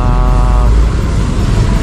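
A motorcycle engine roars loudly and steadily up close, with a rough, rumbling drone throughout.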